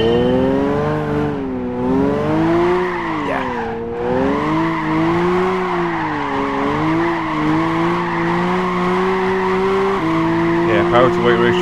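A Nissan Silvia S14 drifts around a track in Gran Turismo 5, its engine holding a steady, wavering drone as tyres squeal through long slides, with someone talking over it.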